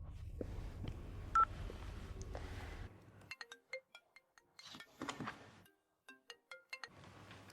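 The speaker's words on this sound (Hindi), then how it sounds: "फोन करके देख।" A phone is dialed and then rings: a run of quick keypad tones, followed by a series of repeated ringing pulses separated by short silences, with no one speaking.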